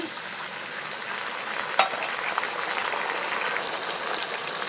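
Ginger, cumin and garlic paste goes into frying onion and potato for a rupchanda fish curry, producing a steady, moderate oil sizzle with a single brief clack of a utensil partway through.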